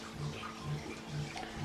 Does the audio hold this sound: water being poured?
yes